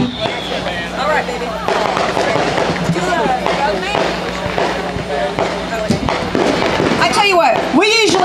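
Fireworks burst during a homecoming-week night gathering in Iva, South Carolina, repeated loud cracks and pops under lively crowd chatter and voices throughout.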